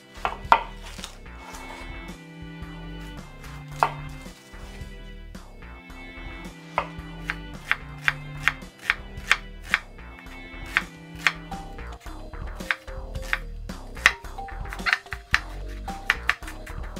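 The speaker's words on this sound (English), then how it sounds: "Just gonna slice my onion." An onion being sliced with a knife on a cutting board, a long series of crisp, close chopping taps in an irregular but steady rhythm over soft background music, with no talking.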